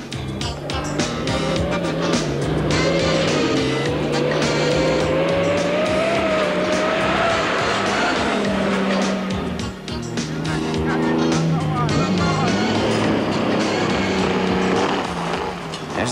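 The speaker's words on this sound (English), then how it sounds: "Toyotas, now led by Malone, keep a steady pace in third and fourth spots respectively" Race cars compete in the 1987 Toyota 1000 desert race, engines droning loud and continuous with rising and falling pitch as they pass, tire squeal mixed in, under steady commentary throughout.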